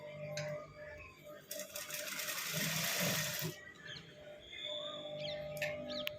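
A sewing machine stitches a blouse lining in a short, fairly faint burst of whirring lasting about two seconds, set against a quiet room hum with light handling noises before and after.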